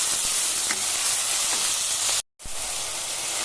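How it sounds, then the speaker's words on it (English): Onions sizzling and frying in a pan while being stirred, a steady close crackle and hiss with light scraping, broken by a brief silent gap before the sizzle resumes. "we will stir these onions till they become nice and golden brown"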